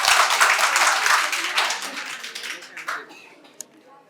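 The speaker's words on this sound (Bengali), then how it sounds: "ওর জন্য একবার হাততালি হয়ে যাবে।" A quiz audience at a medical college and hospital in Santiniketan breaks into a burst of clapping that fades out over a few seconds, followed by a few scattered claps.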